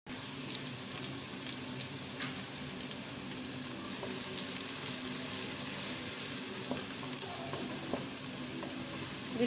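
Sliced onions frying in hot oil in a kadai, a constant close sizzle with small crackles and light stirring scrapes, no talking.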